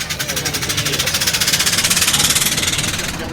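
Vintage steam engine at a steam and vintage rally, running steadily with a fast, even chuff of exhaust beats under a hiss of steam, close and loud throughout.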